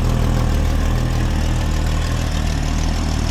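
A 1965 Ford Falcon engine idles steadily close to the microphone, an even low rumble with a regular pulsing beat and no talking.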